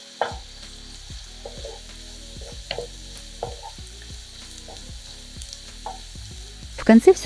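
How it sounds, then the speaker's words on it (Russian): Chopped mushrooms and onions fry in vegetable oil in a pan over medium heat, a close, soft steady sizzle broken by regular scraping strokes of stirring and a clatter at the end. "Обжариваем грибы с луком на среднем огне."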